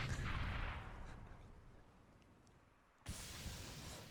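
A single grenade blast in a Counter-Strike match on the Inferno map, booming at the start and fading into a low rumble before a second sharp bang cuts in near the end.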